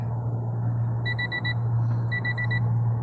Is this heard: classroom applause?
no